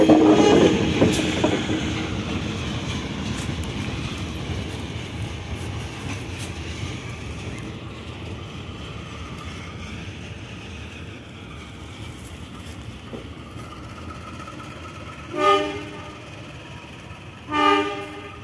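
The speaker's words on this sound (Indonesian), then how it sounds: "Ini 3 lokomotif sekaligus" Three locomotives run together along a railway line past nearby houses, a heavy rumble that slowly fades, followed by two short horn toots near the end.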